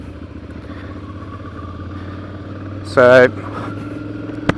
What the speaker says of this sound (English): I'm riding a Ducati Monster 659